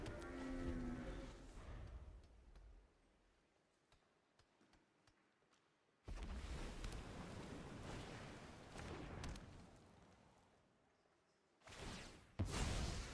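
A cow's moo sound effect from the Moo card in the MTG Arena digital card game sounds faintly at the start, followed by soft ticks and two louder bursts of game noise.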